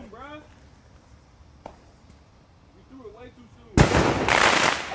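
A firecracker explodes after its fuse burns, a sudden sharp bang near the end followed by a loud, sustained crackling roar, with voices talking before the blast.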